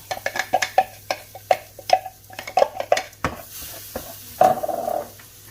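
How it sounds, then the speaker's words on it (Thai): Metal utensils clink and scrape against a pan in quick irregular strokes as crushed garlic and dried chili go in, with a brief sizzle flaring near the end. "ใส่กระเทียมพริกแห้งบดลงไป"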